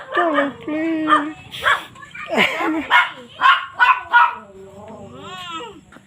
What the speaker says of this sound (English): Shut up, you stupid dogs.